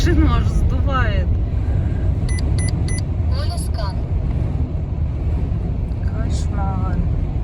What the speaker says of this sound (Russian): Оттуда задувает так, что мама не горюй.